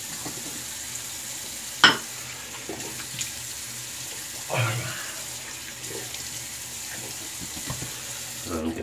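A bathroom tap runs water for rinsing after a shave with luxury cream soap, a soft steady flow broken by a few splashes and clinks at close range.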